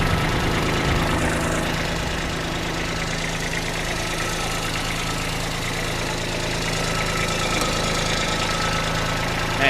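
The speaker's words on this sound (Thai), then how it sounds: "ก็ถือว่าเครื่องยนต์ดีเลย เครื่องติดง่ายนะครับ" A Kubota B2140 4WD tractor's diesel engine idles steadily, a loud, continuous low rumble with an even knocking pulse and no talk.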